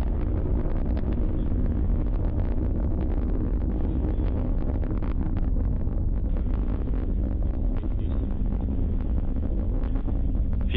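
A SpaceX Falcon 9 rocket launch produces a continuous, dense, heavy roar with low rumble and crackling texture, steady and loud throughout, buffeted by wind-like noise.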